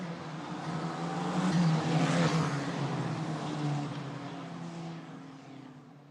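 Race cars in a Euro 4 Championship race at the Monza circuit roar past. The broad engine noise swells to a peak and then recedes into the distance.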